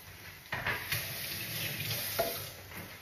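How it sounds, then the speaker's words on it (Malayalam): Biryani masala being stirred in a pot for Kerala dum biryani, with steady frying sizzle underneath and a few louder scraping strokes of the spoon, close and without talk. "നന്നായിട്ട് ഇളക്കി കൊടുക്കാം"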